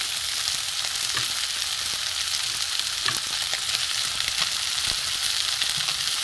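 A pan frying food for katla fish balls gives a loud, continuous close-up sizzle, broken by occasional light crackles and clicks.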